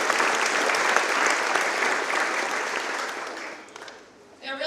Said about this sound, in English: So I'd like to special applause to them.